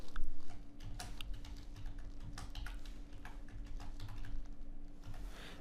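A password is typed on a computer keyboard as a rapid, uneven run of close, crisp key clicks, with short pauses between bursts and no talking.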